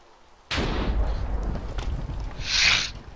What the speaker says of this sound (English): the amount of lightning I'm hearing is ridiculous right now.